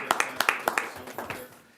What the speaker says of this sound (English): Round of applause for Leanne